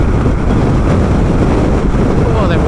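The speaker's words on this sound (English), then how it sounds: "Oh, that wind's strong." Strong wind buffeting a rider on a Honda Transalp motorcycle at around 70 km/h, a loud, constant roaring rush filling the whole clip with no pauses.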